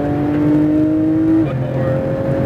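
Race car engine at full throttle on a Las Vegas track, GT2 RS or Aventador SVJ, a loud steady tone that drops sharply at an upshift and then pulls on, with talk underneath.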